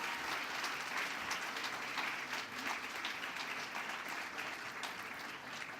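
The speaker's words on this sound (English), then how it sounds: "Big round of applause for the wonderful young people here." Sustained applause from an audience at a youth social changemakers award ceremony, a dense, even wash of clapping that carries on steadily throughout without a break.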